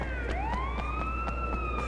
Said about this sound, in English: Where is the siren coming from?